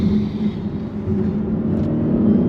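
An Audi S8 tuned to 700 hp accelerates hard, its engine a loud, sustained low rumble and whir that builds slightly toward the end.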